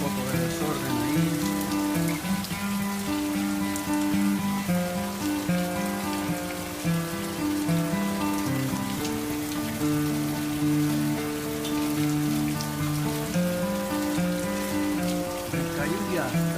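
Rain falls steadily outside a garage during a storm, a constant close patter of drops under sustained tonal music that runs throughout.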